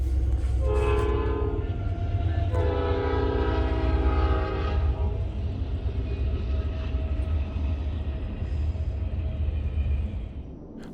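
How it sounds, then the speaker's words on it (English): A CP intermodal freight train led by an AC44 locomotive passes a railroad crossing in Walkerton, its horn sounding in two long blasts over a heavy diesel rumble that fades as it moves on. "got this video of a CP intermodal with a very disgusting AC-44 leading"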